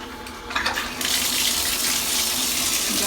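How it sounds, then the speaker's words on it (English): Kitchen tap water running into a sink, starting with a lighter trickle and then opening to a steady, loud, broad gush that continues without pause to the end. "You got the water running"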